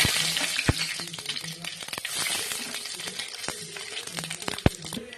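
Bay leaf and panch phoron spices sizzle and crackle in hot oil, a steady hiss broken by sharp pops and a few scraping stirs, moderately close.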